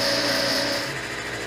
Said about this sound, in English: So let's plug in the vacuum pump.